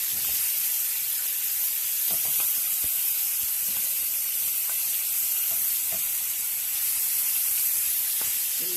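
Shrimp fry in a hot pan with a steady, loud, bright sizzle that never lets up, dotted with small pops and crackles.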